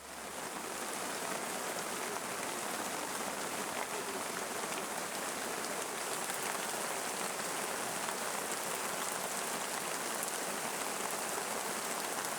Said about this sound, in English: a thick blanket of clouds covers the towering ridges surrounding the palm forest, and a downpour unexpectedly occurs